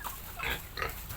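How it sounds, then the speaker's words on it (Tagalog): A pregnant pig in a hot backyard farm pen grunts and oinks in short, close nasal bursts, about three or four calls across a second, with faint background noise. "Mas lalo na tong baboy buntis siya."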